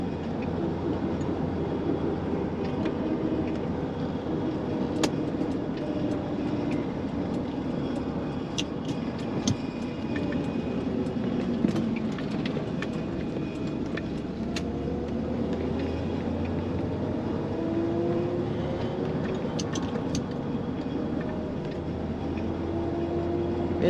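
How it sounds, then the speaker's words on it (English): A 1981 Chevrolet Corvette C3 with a four-speed manual, its engine droning steadily from inside the car at low revs, a continuous low rumble mixed with road noise and occasional faint rattles. "Engine runs strong, plenty of torque there."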